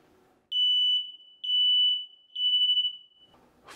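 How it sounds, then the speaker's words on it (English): Smoke detector alarm sounding three loud, piercing high-pitched beeps, each about half a second to a second long with short gaps between, in a quiet room with no talk. "Smoke detectors are required in the bedroom and just outside the bedroom."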